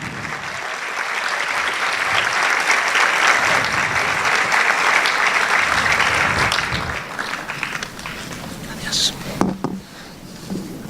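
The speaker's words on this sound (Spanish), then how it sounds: "Recibamos entonces con un fuerte aplauso al señor Agustín Matías." An audience at a conference plenary session in Colombia applauds loudly and steadily for about eight seconds, then the clapping fades into scattered claps and room noise.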